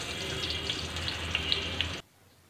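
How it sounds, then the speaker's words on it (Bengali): Cut potatoes frying in hot oil, a steady close sizzle with a few sharp pops, cutting off abruptly near the end, no speech. "এবার আমি কেটে রাখা আলুগুলোকে হালকা লাল করে ভেজে নেব।"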